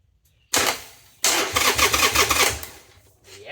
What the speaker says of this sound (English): stuck a screwdriver in it and spun it over to see if I had spark